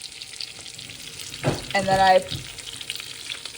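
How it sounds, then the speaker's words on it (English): Pork rind coated pork chops frying in beef fat, a soft, steady sizzle under brief speech. "I'm frying them in beef fat."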